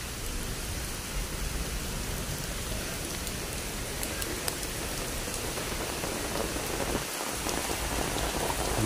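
Steady heavy rain pours down at the Manila Zoo, a dense continuous hiss of drops hitting surfaces, loud and close, with no voices over it.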